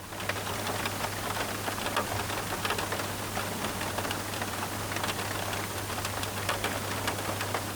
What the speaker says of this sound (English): just the little tinkle of the rain on the roof